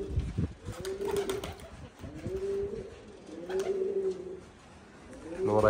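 Pouter pigeons coo in low, rolling, throaty calls, repeated several times up close, with a faint voice speaking softly in the background.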